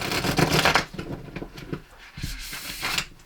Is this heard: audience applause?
no